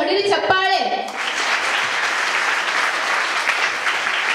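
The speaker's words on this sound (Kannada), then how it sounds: "ಅವ್ರಿಗೊಂದು ಹೊಡಿಲಿ ಚಪ್ಪಾಳೆ" An audience at a children's speech event in Dharwad breaks into loud, sustained clapping after a brief stretch of speech at the start, the applause filling the rest evenly.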